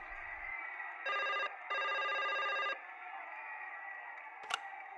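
A phone call ringing in the point-and-click adventure game Broken Sword 5: two bursts of an electronic trilling telephone ring, a short one then a longer one, over a quiet hum, followed by a brief click.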